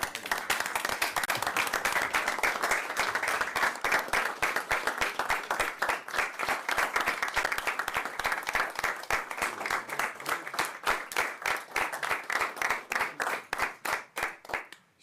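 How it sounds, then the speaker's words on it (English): A room of people at a county board meeting applauds steadily for about fifteen seconds, the clapping thinning into scattered individual claps as it fades out. "I think he deserves a round of applause."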